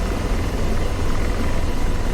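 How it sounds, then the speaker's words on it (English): A helicopter in a naval battle video game gives off a dense, steady rotor and engine roar, loud and unbroken, with no voices. "I'm trying to balance the helicopter."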